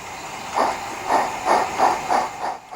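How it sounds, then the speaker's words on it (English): A model steam pickup goods train on a garden railway pulls away after shunting, giving five or six rhythmic chuffing puffs with a soft breathy hiss, close and evenly spaced. "With shunting operations now completed, the train can move on."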